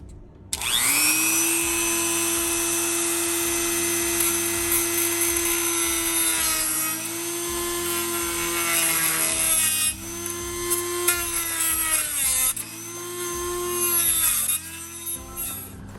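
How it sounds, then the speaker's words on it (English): A Dremel rotary tool notches the top of a plastic airbox from a 2010–2014 BMW S1000RR motorcycle, a loud steady high-pitched whine that runs nearly continuously, dipping and shifting pitch briefly as it bites into the material. "I've got my Dremel tool, and I'm just gonna basically notch out a little bit of the top right here"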